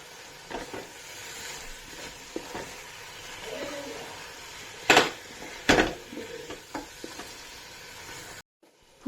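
Fried chicken being stirred into masala in a pan, with soft scraping and a couple of sharp metallic clinks of a spoon against the pan over a faint sizzle.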